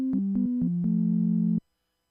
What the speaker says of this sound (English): you can see this is just plain sine wave.